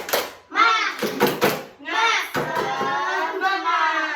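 A class of primary school children chanting the tepuk semangat clapping routine, their voices in unison broken by a few sharp, rhythmic hand claps, loud and close throughout.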